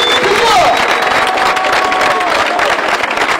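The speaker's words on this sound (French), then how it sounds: "j'aimerais qu'on fasse tonnerre d'applaudissements, si vous le voulez bien, à toute l'équipe d'organisation" Loud, dense applause with some cheering from a crowd at a marathon event in Biarritz, saluting the organising team with a continuous roar of clapping and faint voices mixed in.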